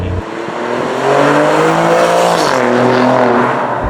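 An Alfa Romeo Giulia Quadrifoglio V6 drives past or under way with a steady, loud engine drone that rises slightly in pitch partway through, heard alone with no voices.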